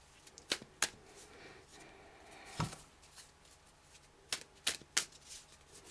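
Tarot cards shuffled by hand, sticky cards giving a series of sharp riffling bursts and slaps, several close together near the start and a cluster toward the end, fairly quiet with no voices.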